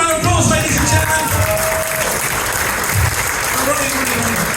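A crowd at a corporate dinner bursts into a steady round of applause, dense and loud, with a voice talking over the clapping.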